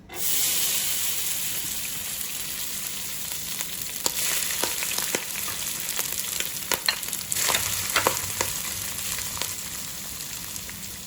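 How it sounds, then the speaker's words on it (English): Rice frying in hot vegetable oil in a pot over maximum heat, a steady broad sizzle with scattered crackles and pops throughout, close and fairly loud, with no talking. "add some vegetable oil and let the oil heat up. Once the oil heats up, add the rice."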